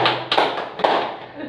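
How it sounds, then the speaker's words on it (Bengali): Hands clapping at a small home birthday party. A few loud, close claps come in short bursts amid room noise. "আমি নিজেই আমার জন্মদিনের জন্য হাততালি দিচ্ছি।"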